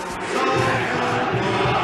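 Corinthians football supporters roar as a dense, continuous crowd, a steady wall of cheering and chanting that stays loud and unbroken for about two seconds.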